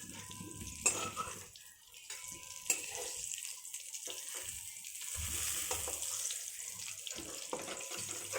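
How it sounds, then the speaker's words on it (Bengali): Fried pointed gourd is lifted out of oil in a pan, giving a soft frying sizzle with scraping and clinking of a spatula against metal, quiet and close, with intermittent clatter. "আমার পটল ভাজাগুলো হয়ে গেছে, এখন আমি তুলে নিচ্ছি"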